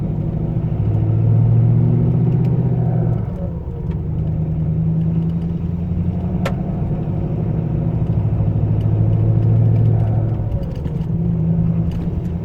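A diesel truck with automatic transmission, made to sound like a big inline-six tractor trailer, rumbles loudly up close, revving up and settling twice in slow, deep swells with no talk.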